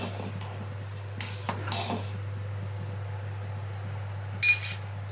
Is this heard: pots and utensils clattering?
yes